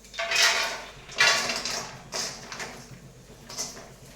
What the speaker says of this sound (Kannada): 2 ಸ್ಪೂನ್ ತುಪ್ಪ, ಫಸ್ಟು ಗೋಡಂಬಿ ಹಾಕ್ತೀನಿ